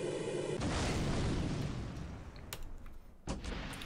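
Grenades explode in Star Wars Episode I: The Phantom Menace on PC, a loud sustained blast roaring up front, then two sharper bangs follow a few seconds apart.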